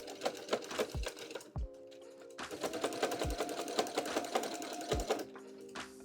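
Sewing machine backstitching heavy sequin embroidery onto a sweatshirt, a steady close mechanical whir broken by brief pauses and a couple of low thumps between runs.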